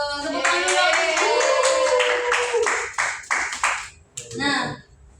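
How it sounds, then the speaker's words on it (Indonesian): A grade 10 Islamic studies class in Indonesia claps hands together in a quick rhythmic burst, loud and close, with voices talking over the clapping throughout before it trails off. "Tepuk tangan dulu."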